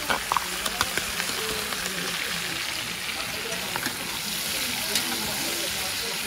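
A chili sausage mixture being stirred in a pot for a Réunion sausage and smoked-meat dish gives a steady close sizzle and scraping, with a voice talking over it.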